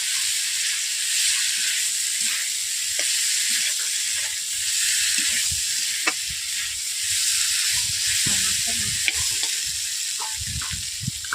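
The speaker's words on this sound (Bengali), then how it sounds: "ফুলকপি আলু দেওয়ার পর আমি ওটাকে 5 মিনিট ধরে কষিয়ে নিচ্ছি" Cauliflower and potato fry in spice masala for a fish-head curry, a steady close sizzle with occasional spoon scrapes and stirring knocks, no talking.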